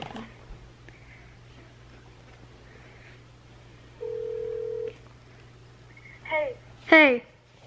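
A phone gives a single steady ring tone for about a second in a quiet room, followed by a voice speaking briefly.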